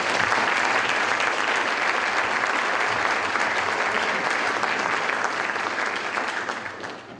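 Sustained, dense applause from a conference audience at the Naval Academy greeting a guest speaker, loud and steady for several seconds before tapering slightly at the end.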